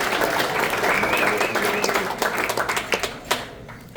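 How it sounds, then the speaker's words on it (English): Audience applause at a late-night Christmas jazz show, dense clapping that thins out toward the end into a few scattered claps. "Give her a nice round of applause"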